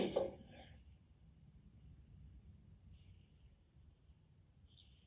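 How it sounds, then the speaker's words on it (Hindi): A single soft computer mouse click on a Facebook shop button, faint and brief, followed by another small click in a quiet room. "शॉप के बटन पे मैंने क्लिक किया"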